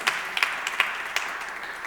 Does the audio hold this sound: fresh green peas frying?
no